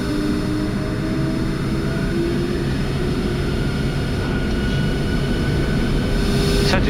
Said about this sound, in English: My controls and set takeoff thrust